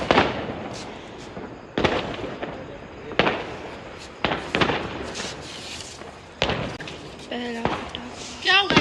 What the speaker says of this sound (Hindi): पहला पटाखा. क्या होगा इसका?